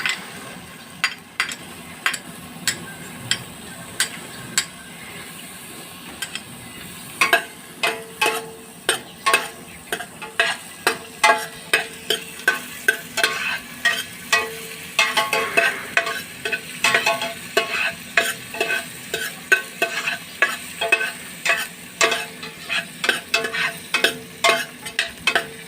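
Onions frying in a pan with a soft, continuous sizzle under repeated clicks and scrapes of stirring, the strokes growing quicker and more regular over time, close by.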